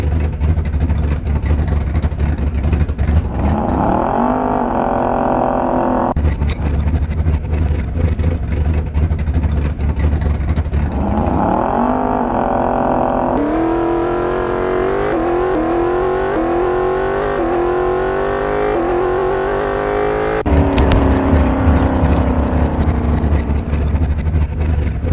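An all-motor drag car in the game Door Slammers 2 makes a loud run: the engine revs hard and climbs through repeated rising gear pulls with abrupt shifts, strained and continuous across several passes.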